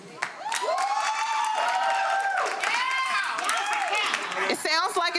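Studio audience on a reality TV reunion show cheers and claps to vote, with loud whooping voices over scattered applause, then shouts and chatter toward the end.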